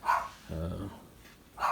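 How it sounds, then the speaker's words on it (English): A dog in a home barks from another room, two short, muffled, distant yaps with a faint low growl between them, quiet against the background. "the dog's barking, so I better go see if that's a bad guy"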